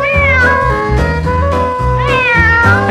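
A kitten meows several times in a row, loud and close, each cry rising and falling in pitch, with short gaps between calls and no talking.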